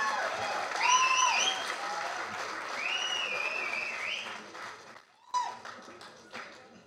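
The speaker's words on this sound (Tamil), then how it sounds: "ஸோ ஒரு பெரிய கைத்தட்டலோட டிரெக்டர் வாலி அவர்களை போடியத்துக்கு அழைக்கலாம்." An audience at a Tamil film event applauding as a director is called to the podium: sustained clapping under a host's amplified voice with tonal music, dropping out briefly before scattered claps resume.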